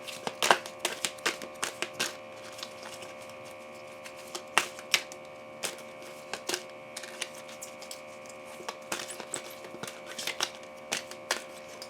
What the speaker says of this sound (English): Let me see if I can